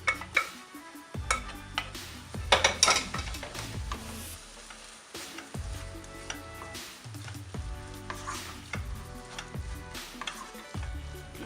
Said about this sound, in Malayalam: ഈ വെന്ത സവാളയും തക്കാളി ചേർത്ത് കൊടുത്ത് നന്നായി വഴറ്റി